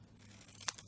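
Scissors snip paper in one quick, faint cut, followed by a smaller second click, both close and brief against a quiet background.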